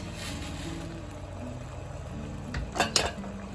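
Hard-boiled eggs are dropped into an ice bath, giving a few quiet clinks and splashes near the end against a low steady background hum.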